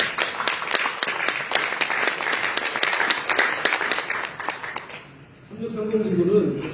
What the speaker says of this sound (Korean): 박수 좀 부탁드립니다.